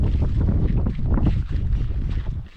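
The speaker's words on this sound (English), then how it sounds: "there is a lot of wind right now" Strong wind gusts across the shore of a mountain lake, buffeting the microphone with loud, rough, blustery roaring that surges and dips.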